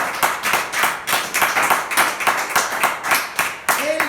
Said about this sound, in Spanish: Si lo vas a aplaudir, apláudalo.